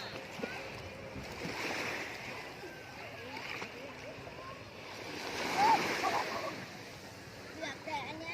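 Sea waves wash and splash along Pattaya beach as the tide begins to go out, a steady broadband surf with a swell of louder wash near the middle, under faint children's voices and wind.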